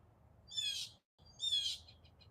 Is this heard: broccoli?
no